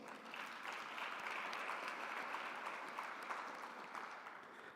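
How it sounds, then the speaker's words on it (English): An audience applauds steadily at a presidential inauguration ceremony, a dense, even patter of many hands clapping for several seconds, moderately distant with no voices standing out. "A round of applause."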